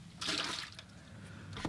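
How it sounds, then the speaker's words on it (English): Water from a watercolor painter's rinse container being poured out, a brief splashing trickle that starts abruptly and runs for over a second, with a second small splash near the end, close and moderately loud. "I'm going to empty my water just one time"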